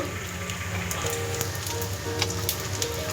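Mutton fry sizzles hard in a pan as chili powder goes in, a bright, steady crackle and hiss with scattered sharper pops, close and loud, with no voices.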